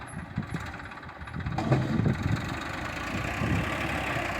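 A tractor engine runs steadily at a low rumble while levelling ground for a farm pond, growing slightly louder partway through and then holding an even drone.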